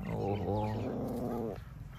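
A young puppy gives a low, sustained growl lasting over a second, close by, over steady outdoor background noise with no talking.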